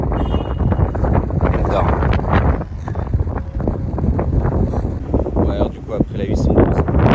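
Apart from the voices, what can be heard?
wind blowing into the microphone outdoors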